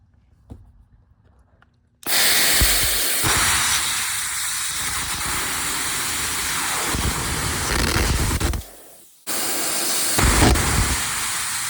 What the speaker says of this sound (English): we're gonna get the plasma cutter out and just hopefully don't damage the wheel